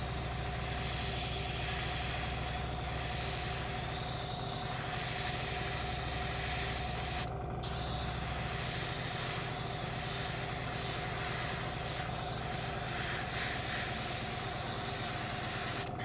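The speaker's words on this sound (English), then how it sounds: "the next bit to paint is going to be the main base colour for the brown of the sleepers. So, again with the airbrush" An airbrush sprays brown base paint onto OO gauge model railway track, a steady close hiss over a low hum of the compressor, with a brief pause near the middle.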